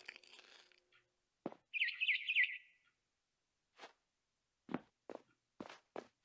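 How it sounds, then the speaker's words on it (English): Birds chirp outside a window in the video game What Remains of Edith Finch, a high warbling trill followed by several short separate calls with pauses between them, alone without talk. "Then I heard chirping outside my window."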